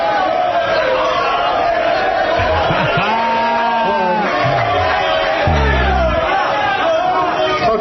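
A live crowd answers a sports radio host with shouts, whoops and rowdy hollering mixed into overlapping chatter, while people talk over the noise.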